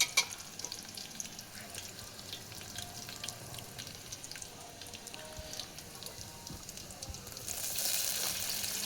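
Ginger-garlic paste frying for toor dal in a pot over a wood-fired chulha, a low steady sizzle with scattered crackles and soft stirring, building to a brighter hiss near the end.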